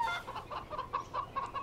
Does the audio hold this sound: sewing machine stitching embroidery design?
no